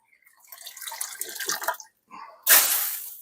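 Water drains and splashes as canning jars are pulled out of a canner, a close trickling pour followed by a brief pause and then a louder, sharper gush of water tipping out.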